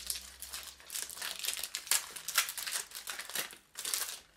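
Kiko pore-tightening serum packaging being opened by hand, with steady close crinkling and crumpling of wrapping and a few sharp tearing bursts over several seconds, no talking.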